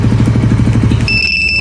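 A Raider 150 Fi motorcycle idles with a rapid, even engine pulse, then the engine cuts out abruptly and a piercing two-tone electronic anti-theft alarm starts beeping in its place.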